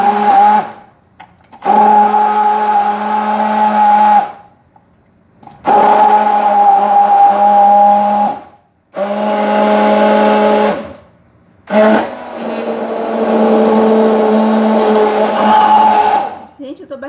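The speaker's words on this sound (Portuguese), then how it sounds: "eu tô batendo no mix" A mixer blends kale with fruit and vegetables in loud, steady bursts of whirring motor noise, four runs separated by short pauses.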